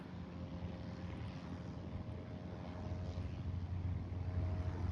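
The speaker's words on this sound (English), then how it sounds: "Okay, here's takeoff number 5." A small training airplane taking off on a runway gives a faint, distant, steady engine drone that builds slightly toward the end.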